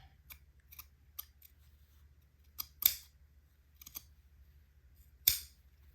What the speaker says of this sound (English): Now with my fabric cutting scissors, I'm going to cut this seam